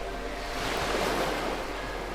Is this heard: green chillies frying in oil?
no